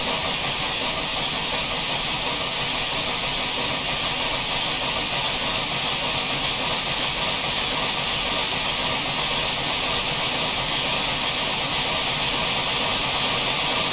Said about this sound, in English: Start burning off the steam pressure.